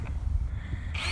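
A power drill fitted with a tiller bit churns into clay soil, giving a short burst of rough grinding that ends in a rising motor whine, close and loud.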